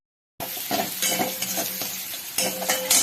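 Onion sizzles steadily in hot oil in a pan for a Bengali tangra fish curry with bay leaf, with repeated scraping stirs and a clink of a spoon against the pan, close and continuous.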